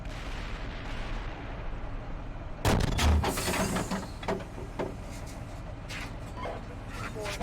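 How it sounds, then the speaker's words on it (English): Gunfire and artillery in the tank combat simulator Steel Beasts Pro, a loud booming blast at the midpoint followed by scattered cracks and rumbling over a steady engine-like drone, with a voice speaking over the action. "We're taking fire here."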